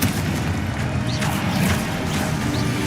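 A Confringo blasting spell detonates in Hogwarts Legacy, a dense, rumbling boom that fills the whole moment with continuous roaring crackle rather than a single clean bang.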